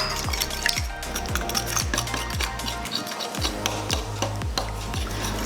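Eggs and salt stirred into a cake batter for lava cake, giving a steady, close scraping and clinking as a utensil sweeps around the bowl in regular strokes, continuous and without talking.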